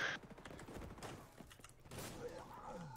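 Rapid bursts of shotgun gunfire in the online shooter XDefiant, several blasts in quick succession amid game effects, fairly loud and close.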